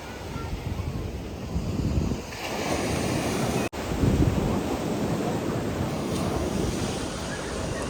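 Sea waves washing onto a shore, a steady loud surf roar with strong wind buffeting the microphone throughout, and a brief dropout midway.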